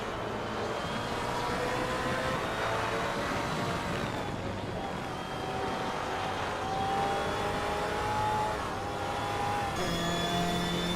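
A 2020 Chevrolet Corvette C8R GTE-class race car drives at speed on a track, its engine note holding a steady loud whine that shifts pitch gradually, with other race cars in close company.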